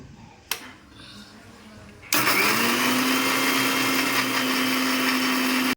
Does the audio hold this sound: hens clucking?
no